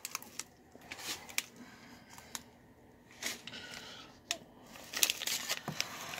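A dip mix package being cut open with scissors, heard as faint crinkling plastic and a series of sharp snips and clicks at close range in a quiet room.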